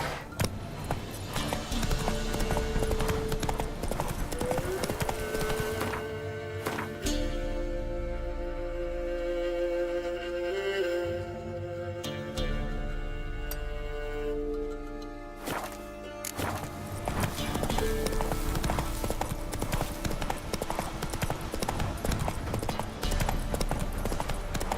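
Galloping horse hooves in The Witcher 3 video game: a loud, close, rhythmic clip-clop that runs through nearly the whole stretch, easing into a quieter, more tonal passage midway before the pounding hoofbeats return.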